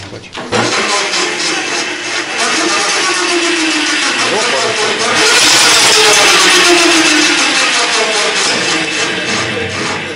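An electric bike converted into an aqua-bike runs its motor with a steady, loud mechanical drone and buzz that rises in the second half, while a person talks over it.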